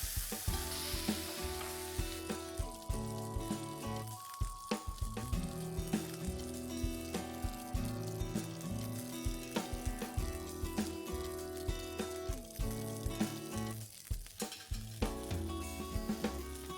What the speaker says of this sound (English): After cooking this on high flame for a minute, we need to flip this over